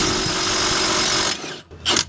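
A Milwaukee 2960 impact wrench with a wobble extension hammers continuously on a 21 mm front brake bolt on a Mercedes Sprinter van, loud and close, then stops and gives one more short burst.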